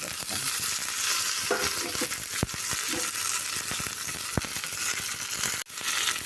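Chana dal, urad dal and curry leaves crackle in hot oil for a tempering, a dense steady sizzle close up with scattered spatula taps and a sharp knock near the end.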